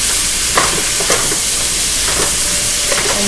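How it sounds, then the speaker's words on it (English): Chicken fried rice being stir-fried with light low-sodium soy sauce in a hot pan, giving a steady, loud sizzle with faint scraping stirs throughout and no talking. "light soy, low sodium soy. Not too much. I just wanna stir fry that."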